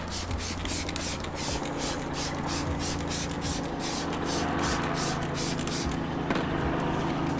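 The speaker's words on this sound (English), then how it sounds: "So we'll take this, give it a good spray all the way around." Degreaser is sprayed around car wheel rims in a steady hissing mist with faint rhythmic pulses over a constant background hum. No one speaks.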